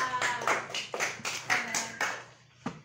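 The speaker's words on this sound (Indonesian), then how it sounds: "Saya beri tepuk tangan untuk Yazipa" Classroom clapping from a third-grade class: about six quick, close rhythmic claps in a row, then a short pause and one final clap.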